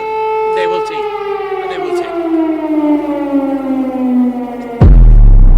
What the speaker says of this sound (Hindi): कीव में बजा सायरन